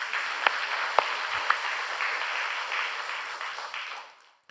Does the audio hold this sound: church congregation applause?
yes